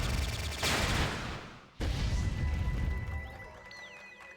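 Gunfire in the video game Entropia Universe on Arkadia, underground: a loud, dense volley of rapid shots that dips briefly, then bursts back in and rattles on steadily. No one speaks.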